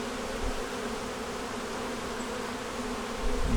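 Honeybees hum steadily around backyard hives on a windy, cool day, a dense continuous buzz close to the microphone with no voices.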